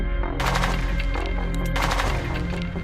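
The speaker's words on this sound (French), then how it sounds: "des coups de feu s'entendent" Sustained gunfire rattles loudly in rapid bursts, dense and continuous, as fleeing separatist fighters and army commandos fire back and forth at fairly close range in bushland in Cameroon.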